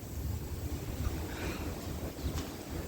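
Wind rumbles and gusts against the microphone, moderately loud and steady throughout, with no voices.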